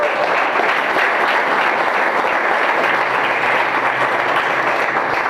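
Applause from a gathered audience at a religious talk, a dense, continuous wash of many hands clapping at steady loudness throughout with no pauses, no voices on top.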